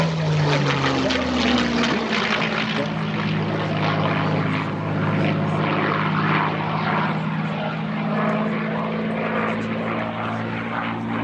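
A P-51 Mustang warbird, the Purple Mustang air racer, roars past at an airshow with a loud, steady droning propeller engine, its pitch dropping slightly as it passes, over constant crowd and wind noise.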